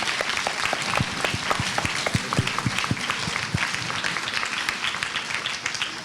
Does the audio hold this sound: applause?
yes